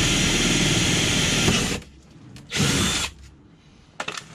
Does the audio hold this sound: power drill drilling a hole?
yes